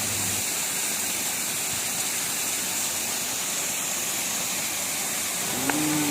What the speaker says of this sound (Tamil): அதுக்கு பக்கத்துலேயே ஒரு சின்ன அருவி ஓடிக்கிட்டு இருக்குங்க